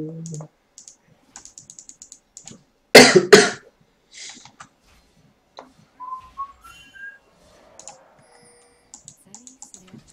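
Brief burst of harsh coughing close to the mic during a League of Legends gaming session, two or three loud hacks in quick succession amid sparse whistling and keyboard typing.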